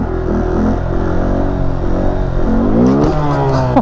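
Honda Grom motorcycle engine revving in neutral, loud and close, with a sustained rising and falling whine as the revs climb, then swoop sharply upward near the end.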